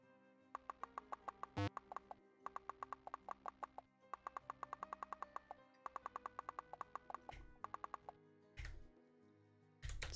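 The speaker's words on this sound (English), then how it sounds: "There's a horse? Horse's special sound effects." Video game horse hooves clip-clop in quick, regular bursts of crisp, sharp steps, with short pauses between runs and a couple of low thumps near the end. No voices.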